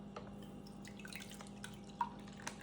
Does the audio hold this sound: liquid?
yes